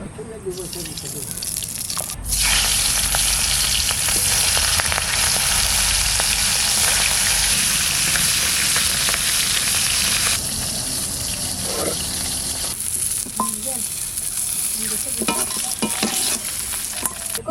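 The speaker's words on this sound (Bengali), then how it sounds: "কড়াই গরম হয়ে গেছে মাছের মাথাটা" A hilsa fish head dropped into a hot wok, with a loud burst of frying sizzle that starts abruptly, holds strong for several seconds, then settles into softer crackling with a few utensil knocks.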